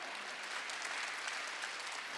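A church congregation claps together during a Wednesday worship service, a steady, dense wash of many hands that stays level and fairly close throughout, with no talking over it.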